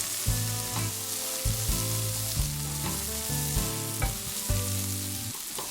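Pork filling, onion strips and vegetables sizzle and fry in a hot wok, with loud steady crackling broken by rhythmic clanks of a spatula stirring and tossing, close up with no voices.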